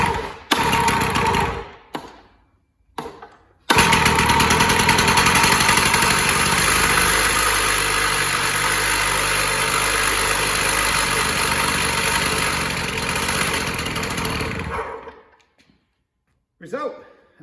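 Stihl cut-off saw engine started after a brief pop of fire, sputtering on early pulls then running loud and steady for about eleven seconds before cutting out, followed by a short burst at the end.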